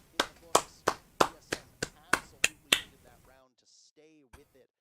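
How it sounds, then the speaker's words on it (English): Sharp claps from a person at a drinking-game stream, about eight evenly spaced, loud and close, then stopping as quieter voices and a bit of chatter follow. "He's still clapping. He's still going."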